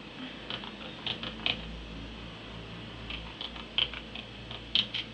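Fairly quiet keyboard typing while code is entered into a Python program, with scattered keystrokes and short bursts, several louder clicks standing out over a low steady hum.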